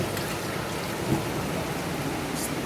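Heavy rain pouring down outside a leaking kitchen, a dense, steady hiss of drops drumming on surfaces with a faint low rumble in the background, continuous and fairly loud with no talking.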